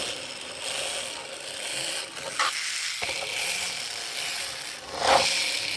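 A rusty 1960s Marx Dalek toy moves with its bottom wheel mechanism spinning, a continuous rough mechanical whirring and rattling of worn gears, with a few clicks and scrapes along the way.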